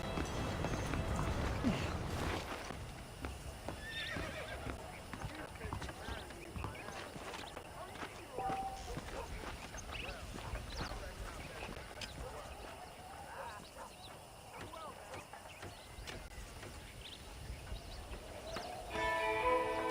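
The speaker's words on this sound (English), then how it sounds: "The horses are saddled up over here." Horses clip-clop and gallop at a steady pace in the Western video game Red Dead Redemption, hoofbeats running continuously through the clip alongside game ambience and voices talking.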